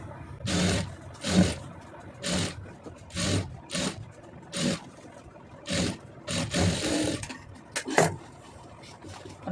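A sewing machine stitches around a blouse neckline in a series of loud, close motor bursts, each lasting about a second, with short pauses between runs.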